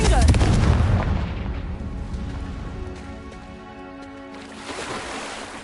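Confringo blasting spell in Hogwarts Legacy, a loud booming explosion at the start that rolls off into a long ringing decay, with a second softer swell near the end.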